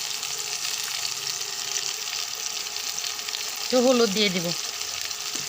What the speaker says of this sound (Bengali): ভালোভাবে মিশিয়ে নেব সাজনা আলু, একটু ভেজে নেব